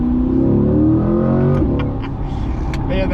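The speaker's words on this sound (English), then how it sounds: "That V8 puts out some power." A V8 car engine fitted with an AWE aftermarket exhaust revs loud and close, rising in pitch and then dropping back, with a few sharp pops and clicks, no talking.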